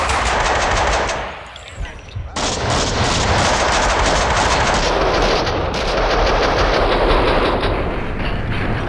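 Loud, sustained automatic gunfire in the PC game Max Payne 2, a dense rapid rattle with a brief dip near the start before continuous bursts resume.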